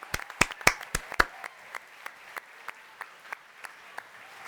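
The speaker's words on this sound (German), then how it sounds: "Applaus auch für ihn." A small audience claps for director Torger Paulsen at a Dead by Daylight 10th anniversary broadcast: a few loud, close, sharp claps at first, then sparse, quieter claps spaced out and tapering off.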